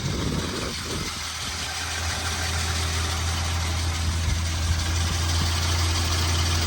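A 1951 Studebaker Champion convertible's flathead six idles steadily and smoothly up close, a constant low rumble with even vibration throughout and no voices.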